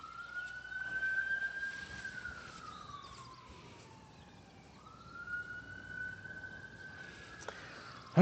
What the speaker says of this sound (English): You know you're in Louisiana when you hear the police sirens?